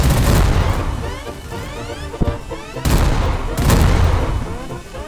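Heavy gunfire from many guns in a video game gunfighter showdown, a dense, loud barrage of booming shots and rapid bursts running throughout with several louder surges.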